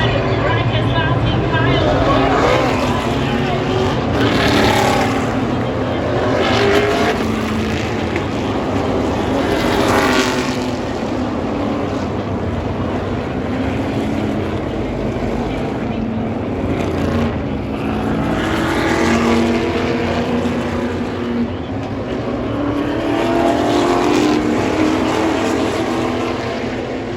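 NASCAR race cars circling behind the pace car at the 2021 YellaWood 500, a steady loud engine roar with swelling passes, under continuous commentary talk.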